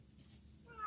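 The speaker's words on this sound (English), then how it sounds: "There's a cat in my roof." A cat meows from up in a house roof, one short faint call near the end that rises above a quiet background.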